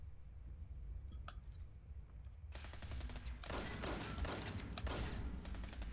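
Fallout 76 gunfire starts faint and distant, then erupts into rapid, dense bursts of shots with sharp cracks, fairly quiet overall and continuing to the end.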